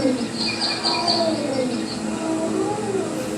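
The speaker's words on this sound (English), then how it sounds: "So this is not a crow," A raven calls with a few hoarse, warbling notes in a short sequence, fairly close and clear over a faint background hum.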